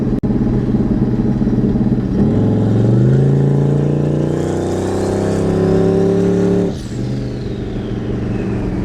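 A car engine revs up hard, its pitch climbing steadily as it accelerates, then drops off abruptly near the end; loud and close, no talking.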